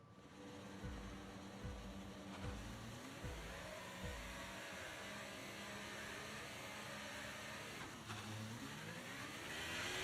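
A Ferrari Formula 1 car engine in F1 23 sits on the grid at the Austrian Grand Prix: steady high-pitched idle drone with a few short rev blips near the start, loud and alone.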